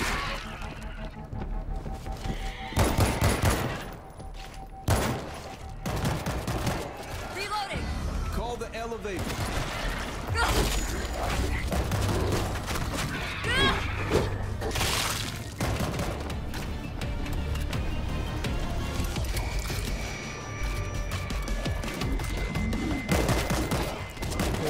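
Rapid gunfire against zombies fills a World War Z game session with bursts of shots, crashes and loud combat noise, and someone speaks over the action throughout.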